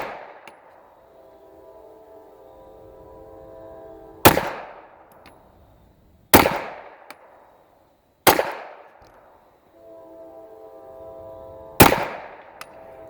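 An H&K PSP 9mm pistol fires four loud, sharp shots at a target, spaced about two to three seconds apart. Each shot rings out and decays against a quiet, faintly humming background.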